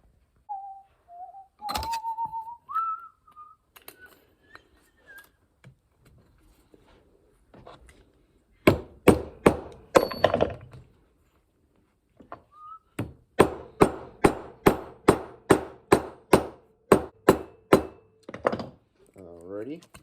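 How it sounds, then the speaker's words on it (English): A series of sharp metallic hammer strikes on a knife-handle rivet, a few scattered taps, then two bursts of rapid, evenly spaced blows close by. "rivet in, just gotta hammer down the back over here"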